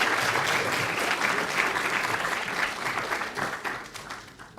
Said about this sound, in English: But let's please, a round of applause.